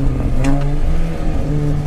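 A Mini Cooper S R53 engine revs up briefly, a steady throaty hum rising slightly in pitch, close and fairly loud.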